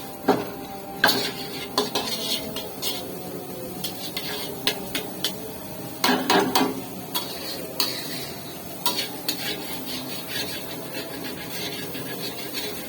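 Carrots and capsicum frying in a pan for fried rice, heard as utensils clinking and scraping against the pan in irregular bursts over a low sizzle, close by, with no talking.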